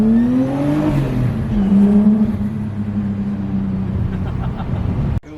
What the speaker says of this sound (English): It needs that little tiny bit of RB rasp, and it just sounds so good.